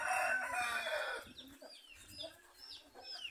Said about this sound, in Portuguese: Aí, muita galinha.